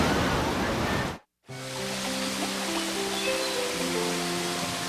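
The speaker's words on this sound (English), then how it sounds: "Rushing streams sweep downhill in Appalachia" Flooded streams rush downhill through the mountains of Appalachia in West Virginia, making a loud, steady roar of churning water that cuts out briefly and then resumes with faint tonal music underneath.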